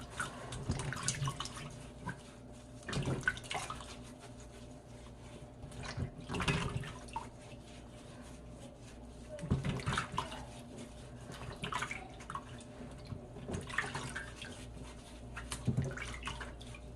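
Lemons soaked with baking soda and scrubbed by hand in water: soft sloshing and rubbing in a basin, with periodic louder splashes every few seconds, fairly quiet and close.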